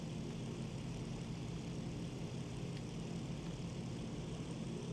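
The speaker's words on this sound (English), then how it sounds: "here comes a flight of planes. Coming right towards us, the big bastards" A flight of WWII propeller planes in IL-2 Sturmovik 1946, heard as a steady, droning engine hum that holds at an even, moderate level throughout with no voices.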